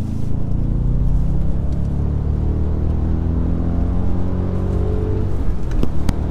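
Audi S4 with a 4.2 V8 of about 400 hp pulling hard in third gear, a loud, steady in-cabin engine roar with harmonics climbing as revs rise, then a brief shift near the end.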